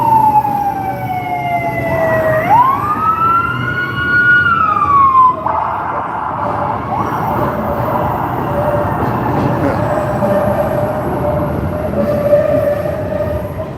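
A fire engine and ambulance pull away on a downtown Chicago street, a siren sweeping up and down loudly then yelping before fading into steady traffic and city rumble, with an elevated train nearby.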